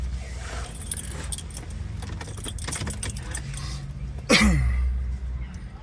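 Keys jangle and click as a key goes into the ignition of an Audi SQ5, close and crisp metallic rattling, followed by a sudden loud electronic tone and hum as the car's sound system powers up.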